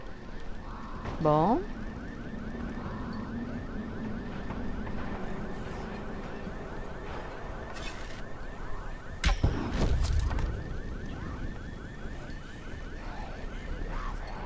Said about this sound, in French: Alarme de merde.